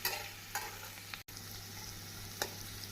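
Steady sizzling of onions sautéing in a pan for tomato kulambu, with a few scraping stirs and a brief dropout partway through.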